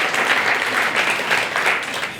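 Audience applause after a dance performance at an evening event, a steady dense wash of clapping close and loud, sustained throughout without a break.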